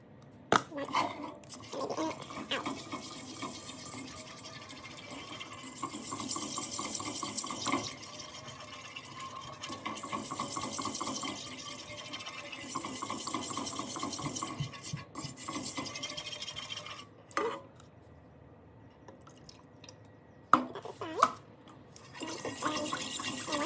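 Mac and cheese sauce being stirred in a pot while milk is poured in gradually, giving soft, steady scraping and liquid sloshing at low level, with brief pauses and a few clinks of utensil against the pan.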